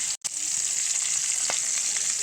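Hilsa fish sizzling steadily as it fries in a pan late at night, a continuous bright crackle with a brief dropout near the start and a few faint clinks.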